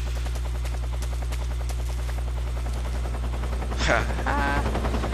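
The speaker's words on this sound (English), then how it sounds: "yeah, there's a helicopter." A video game helicopter from Metal Gear Solid 3, its rotor thumping in a rapid, steady rhythm throughout, loud and close, with a couple of sharp bursts near the end.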